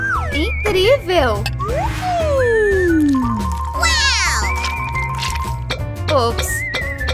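A cartoon cat in a children's animated story meows in bright, swooping high-pitched cries, repeated several times over a music bed, with character voices speaking between them.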